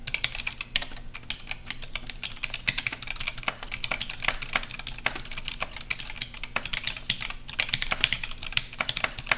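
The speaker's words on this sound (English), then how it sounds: "I remember when I first started typing on this thing, I did not like the sound of it at all." Typing on an Altar I computer keyboard produces a brisk, irregular stream of sharp close key clacks, steady and prominent with no voices.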